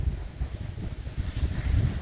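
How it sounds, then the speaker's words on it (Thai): Wind gusting over open rice fields, a rough low rumble of air buffeting close against the microphone, growing stronger toward the end, with no talk. "แต่ว่าตอนนี้มีลมเนาะครับนี่"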